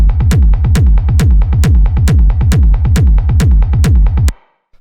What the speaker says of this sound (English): we have the kick, which is 3 layers